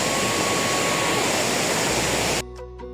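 Bire Khola waterfall in Bajura pours as a loud, steady broadband roar close by, continuing without a break until it suddenly drops to a quieter hiss near the end.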